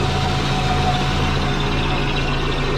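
A twin-turbo Subaru engine with exhaust leaks idles loudly and steadily up close, a constant low rumble with a fine pulsing throb and no voices.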